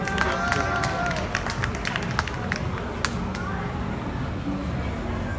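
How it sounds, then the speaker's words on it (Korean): A crowd at an outdoor candlelight political rally in Daegu claps in a steady, dense patter over background crowd noise and voices, holding at an even level throughout. "박수 부탁드립니다."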